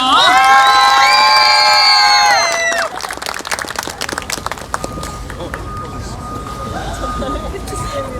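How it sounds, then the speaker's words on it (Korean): A crowd cheers and shouts loudly at first, then breaks into scattered clapping and lively applause that continues with background murmur, at an outdoor plaza K-pop performance contest in Yangsan, South Korea. "여러분 박수 주세요."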